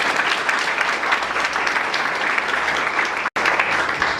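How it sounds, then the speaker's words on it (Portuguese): Church congregation applauding loudly and steadily for about four seconds, a dense wash of clapping with a brief cut near the end. "Você pode aplaudir ao Senhor?"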